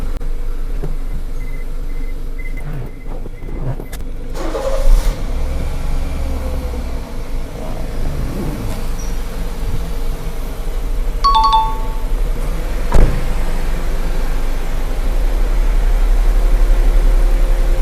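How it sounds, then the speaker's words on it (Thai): A car with a dead battery is started after a jump-start and then idles as a steady low engine hum. Faint chime-like tones and a brief clunk sound partway through. "ขั้นตอนต่อไปเราก็จะมาสตาร์ทรถคันที่ แบตหมดนะครับผม"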